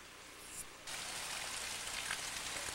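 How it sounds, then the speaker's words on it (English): Rain falls steadily outdoors and swells into a dense, hissing wash partway through, close and continuous, with nobody speaking. "This is about the 4th time it's rained today."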